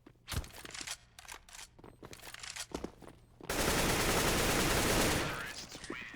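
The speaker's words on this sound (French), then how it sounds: "Shazam qui va tomber sous les balles de Olofmeister" Burst of rapid automatic gunfire in a Counter-Strike esports match on the map Mirage, a sustained loud volley lasting about two seconds after scattered single shots and footsteps.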